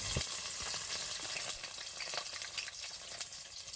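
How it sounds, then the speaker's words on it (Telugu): Small fish coated with salt, turmeric and chili powder fry in hot oil, giving a steady, close sizzle and crackle with occasional pops, with no voices over it. "నేనైతే ముందైతే చేపలకి కొంచెం ఉప్పు, కొంచెం పసుపు, కొంచెం కారము కలుపుకొని నూనె వేడైనాక నూనెలో వదలాలి."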